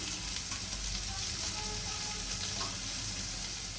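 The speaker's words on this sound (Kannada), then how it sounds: "ಇದನ್ನೆಲ್ಲ ನೀಟಾಗಿ ಫ್ರೈ ಮಾಡ್ಕೋಬೇಕು" Two medium onions, about ten green chillies and a few small tomatoes fry in a pan for masala, giving a steady, close, unbroken sizzle with no talking.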